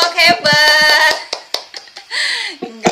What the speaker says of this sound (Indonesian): Kasih tepuk tangan untuk kelompok hebat.